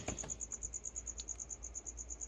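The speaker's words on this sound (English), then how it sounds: "There's still some crickets, obviously, in some of the cages" Crickets kept in pet cages chirp in a steady, rapid pulsing rhythm, faint but continuous, at night with no talking.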